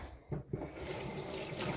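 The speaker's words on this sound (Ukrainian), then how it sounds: "зараз я візьму мочалочку цю, намочу її." A sponge is wetted under a running kitchen tap. A few soft knocks come first, then a steady close rush of water fills the rest, with no voices.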